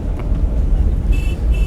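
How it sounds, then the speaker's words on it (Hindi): Dense road traffic rumbles across a bridge over the Ravi river, a steady close roar of passing cars and heavier vehicles with a brief high whine near the end. "रोड पर काफ़ी ज़्यादा ट्रैफिक है"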